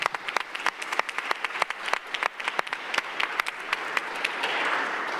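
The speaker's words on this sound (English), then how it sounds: "let's give him another round of applause if we could" Applause from attendees at a Cleveland City Council meeting, a short burst of distinct claps thickening into a steady, moderately loud round with no voices over it.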